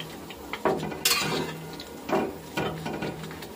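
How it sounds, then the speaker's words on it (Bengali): Garlic is stirred and fried in a pan, with a soft steady sizzle under repeated scraping and clanking of a utensil against metal, close and fairly loud. "এখন আরেক ভালো করে রসুনটা কষিয়ে নেব"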